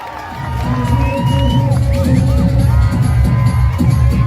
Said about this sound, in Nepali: सम्पूर्ण दर्शक महानुभावले एकपटक ताली बजाएर बधाई ज्ञापन गर्नुहुन्छ